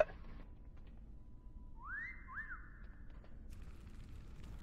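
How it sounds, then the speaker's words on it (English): A game character whistles in World of Warcraft at Blackrock Foundry, a short rising two-part wolf-whistle in the middle of a quiet ambient game background. "My character is whistling at yours."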